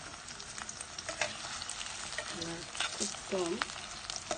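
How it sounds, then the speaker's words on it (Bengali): Onions frying in hot mustard oil sizzle with a soft, steady crackle, joined by scraping stirs of a spoon in the pan while a few quiet words are spoken. "হালকা গরম হওয়ার সাথে সাথে আপনারা এখন দিয়ে দিবেন আধা কাপ পেঁয়াজ"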